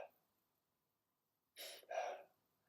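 A person imitates shallow, rapid panting, with two quick breathy bursts close to the mic after a near-silent pause.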